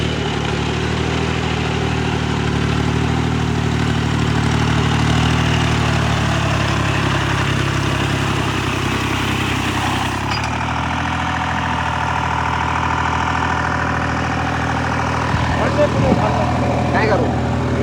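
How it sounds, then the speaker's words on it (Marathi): Tractor engine idling on a farm, a steady low mechanical drone that shifts in tone partway through, with voices talking over it. "इकडे आता तुम्ही बघू शकता पप्पा आले ट्रॅक्टर घेऊन"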